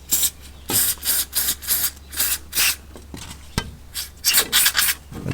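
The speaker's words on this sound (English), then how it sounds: "and I'll spray some inside of the bushes here" Silicone lubricant sprayed from an aerosol into the rubber torsion bar eye-bolt bushes of a Morris Minor, heard as about a dozen short, rhythmic hissing bursts, close and fairly loud, with no talking.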